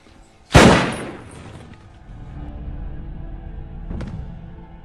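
A single sharp gunshot cracks loudly and decays into a rumbling echo, followed a few seconds later by a fainter second bang.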